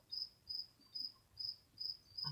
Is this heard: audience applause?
no